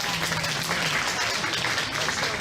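An audience at a county fair dairy beef and beef showmanship show applauds the exhibitors, a dense, steady wash of many hands clapping that holds at even loudness throughout.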